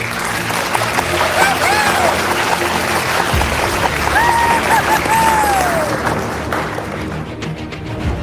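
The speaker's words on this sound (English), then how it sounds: "can I please have a round of applause for your host and organizers?" Applause from an awards-night audience at a team competition ceremony, a steady dense wash of clapping mixed with crowd noise and some voices, fading slightly toward the end.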